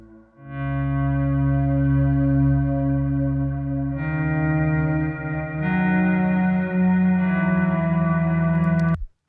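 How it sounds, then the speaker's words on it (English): A deep, sustained low guitar note thickened by a buzzing subharmonic synth layer, shifting pitch twice and ringing on steadily. "that's the low note on my guitar with the subharmonic synth put in there just a little bit"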